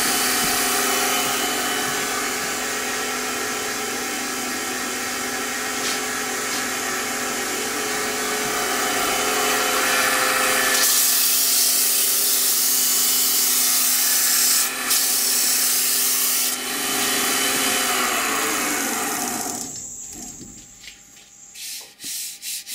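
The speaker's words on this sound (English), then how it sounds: "you can improve that a little bit by just sanding with the grain" Continuous rasping of sandpaper, no finer than 220 grit, rubbed by hand back and forth over coarse-textured wood, steady and close, changing texture partway through before trailing off.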